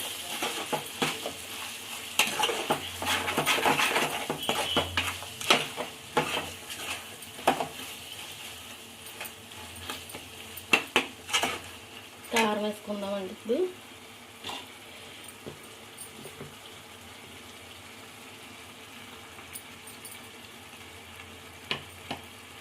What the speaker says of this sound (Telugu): కొంచెం అల్లం పేస్ట్ వేస్తున్నాను సరిపోతండి బాగా కలిపేసుకుందాం